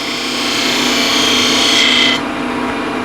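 A 10 mm spindle gouge cuts a cove in wood spinning on a lathe, giving a loud, steady shaving hiss over the motor's hum for about two seconds, after which the cut stops and the lathe keeps running.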